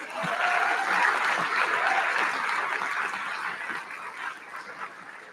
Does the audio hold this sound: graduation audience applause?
yes